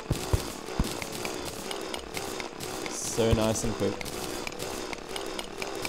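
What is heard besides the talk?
drilling cobalt ore in the video game Terraria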